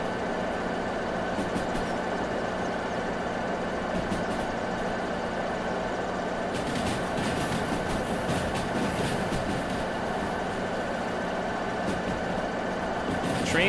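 A train rolling on rails in a video game, a steady rumbling drone with faint high squealing from the rails creeping in partway through, continuous and moderately loud.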